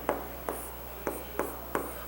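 Pen writing on paper, five short scratchy strokes spaced about a third of a second apart, close and quiet with no voices.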